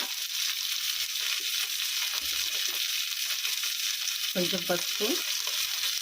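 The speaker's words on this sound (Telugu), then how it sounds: "ఆ దొండకాయలు వేసుకొని వేయించుకుందాం" Chopped ivy gourd and curry leaves fry in hot oil with a steady, soft hiss, while someone speaks briefly near the end.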